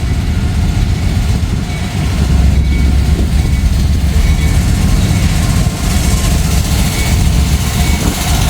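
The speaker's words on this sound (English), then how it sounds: "We'll see based on what the locomotives have to offer." Diesel locomotives of an M511 freight train rumble past in Kentucky or Ohio, a loud, steady low engine drone with continuous rolling noise, strongest and closest over the middle of the pass, with no talk.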